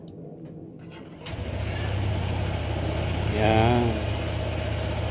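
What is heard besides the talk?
Honda ADV 160 scooter engine starting and idling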